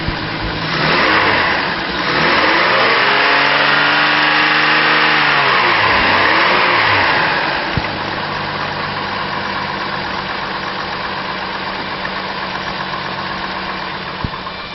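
A 2005 Chevrolet Trailblazer with a 4.2 liter engine and automatic transmission revs up loudly a few times, then settles into a steady, even idle, recorded close with no talk.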